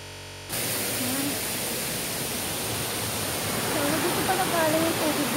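Water pours steadily over a man-made waterfall in Yuen Long Park, a constant close rushing wash that starts abruptly after a brief moment and holds even, with faint chirps showing through it.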